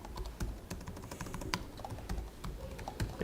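Rapid, close keystrokes clatter on a computer keyboard in an irregular rhythm of soft taps and a few louder key hits, with no voices.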